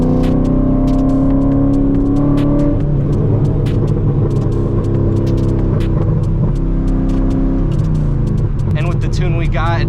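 A cammed Corvette V8 rumbles loudly up close with a lumpy, choppy idle, its low throbbing tone steady throughout while a person talks over it.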